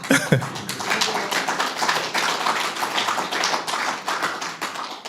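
An audience at an art, poetry and music celebration gives a round of applause for UPF: dense, sustained clapping from many hands, fairly close, with a brief vocal sound at the start.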